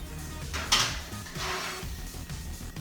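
A meatloaf pan set down onto a metal baking sheet, a short clank followed by a sliding scrape, close and without voices.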